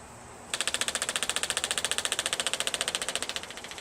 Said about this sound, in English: If all goes well, the pump will run and then quit